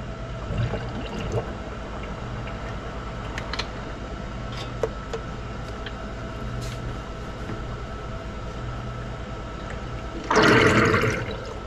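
Warm water drained away in a kitchen while bottle feeding. A brief, loud rushing gush comes near the end after a low steady hum and a few faint clicks.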